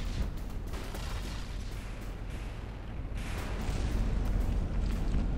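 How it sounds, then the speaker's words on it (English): A Gatling gun in the From the Depths video game fires as a continuous dense rattling roar that swells slightly louder toward the end. "Okay, now the Gatling is firing."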